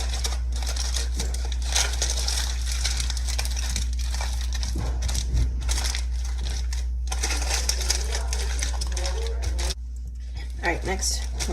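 Foil or paper being folded into a packet for cold smoked salmon in a kitchen, heard as crinkling and crumpling bursts over a steady low hum. A person talks throughout.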